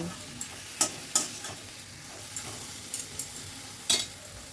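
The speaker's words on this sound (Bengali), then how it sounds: "আবার একটু জল দিয়ে দিলাম, দিয়ে আবার সব কিছু ভালো করে মিশিয়ে নিচ্ছি।" Fenugreek greens and small potatoes stirred in a pan over heat, a steady soft sizzle broken by a few sharp spoon scrapes and taps against the metal, close and fairly quiet with no voices.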